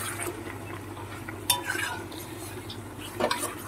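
Chicken with fried potatoes and eggs stirred in a pan after a splash of water, a steady low simmering bubble under scraping utensil strokes against the pan, with sharper clinks of metal on metal now and then.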